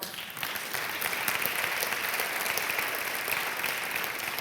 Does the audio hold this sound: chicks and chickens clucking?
no